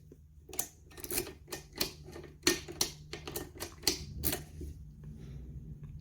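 A key cutting machine fitted with a custom card cuts a double-sided Ducati key, likely for a Monster 821, producing a string of sharp, clicking and grinding bursts over a low steady hum, close and moderately loud.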